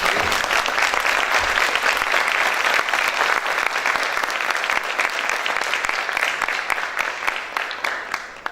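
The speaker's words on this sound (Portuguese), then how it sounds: "Maria da Conceição Tavares, a quem peço uma salva de palmas." Sustained audience applause at the opening of an academic event in honour of a professor emerita, dense, even clapping that holds for over eight seconds and tapers slightly near the end.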